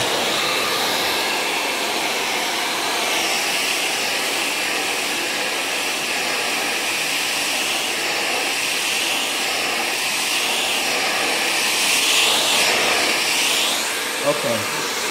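Hair dryer blowing steadily and loudly up close while natural hair is stretched straight with a comb, a continuous whooshing roar with no pauses.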